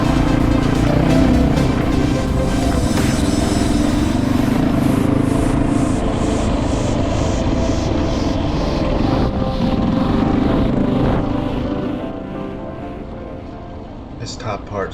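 A maintenance crew's truck and trailer, UTVs and quads drive along the Baldy Mesa single-track trail, producing a loud, continuous engine roar mixed with wind buffeting that eases and fades a little near the end.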